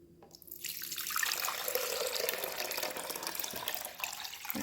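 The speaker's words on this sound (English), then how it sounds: "I'm going to add my water." Tap water runs into a blender cup for homemade oat milk, a steady splashing stream that starts after a brief quiet moment and pitches slightly as the cup fills, close and alone.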